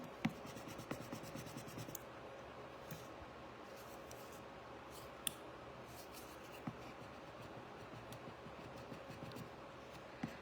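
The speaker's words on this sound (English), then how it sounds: "just lay it back down and rub over it again" A quiet, steady scratchy rubbing over a paint transfer on paper while restoring a vintage travel makeup case, with small irregular ticks and taps along the way.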